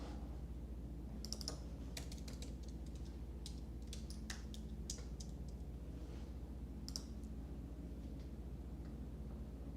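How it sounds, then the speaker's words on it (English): A postal code being typed on a computer keyboard: scattered bursts of crisp key clicks, close and fairly quiet, with pauses between keystrokes over a low steady hum. "Let's type Daly City postal code."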